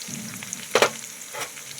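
Cumin powder, ginger paste and garlic paste hit hot oil in a pan for chicken chana, giving a low steady sizzle broken by a couple of sharper splatters or stirring clinks, close and fairly quiet, with no talking.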